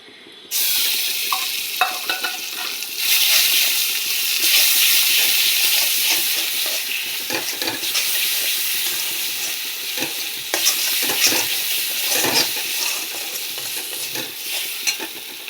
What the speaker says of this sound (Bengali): মশলা ভাজা হয়ে গেছে, মশলা থেকে তেল ছেড়ে এসেছে